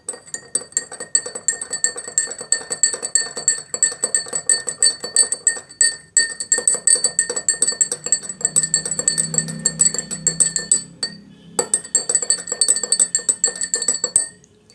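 Repeated light clinking of a utensil stirring water-soluble fertilizer into water inside a glass, close and fairly crisp, with a short pause partway and a low muffled thump near the middle.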